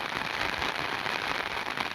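Rain pours steadily onto a tractor out in a farm field, a dense, even hiss of drops with no break and no voices.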